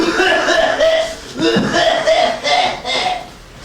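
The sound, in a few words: performer imitating a nasty cough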